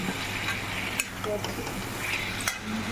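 Chicken, egg and potatoes with salt being sautéed in a pan, a steady close sizzle and frying hiss carrying on throughout, with a couple of spatula scrapes and clinks on the pan and some speech underneath.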